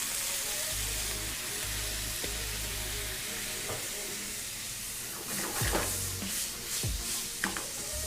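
Sisig cooking in a pan with vinegar and soy sauce, a continuous close sizzle with a low hum early on, then sharper clatters and scrapes of stirring toward the end.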